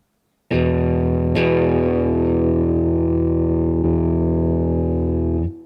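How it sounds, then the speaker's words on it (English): An electric guitar played through a Roland Blues Cube amplifier on its clean channel with the boost engaged rings out in a loud, sustained, slightly driven chord struck twice, then held until it is cut off abruptly. "You can hear that, the immediate jump because of the boost"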